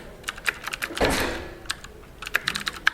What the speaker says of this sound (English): and then you start typing.